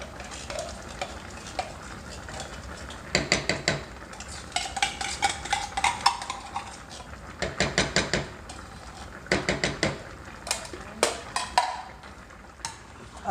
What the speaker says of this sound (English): we're just gonna mix it in to make sure it's blended all over the chicken